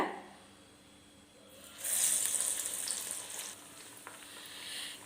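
Sweet potato vada patties dropped into hot oil set off a sudden loud, bubbling sizzle after a quieter opening, then settle into a steady, close frying hiss with no voices.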